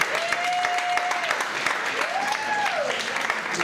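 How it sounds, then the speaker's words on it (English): A comedy club audience applauding at the opening of a live stand-up show, steady and moderately loud for a few seconds, with a brief tonal whistle-like sound on top. "Give yourselves a round of applause for coming out."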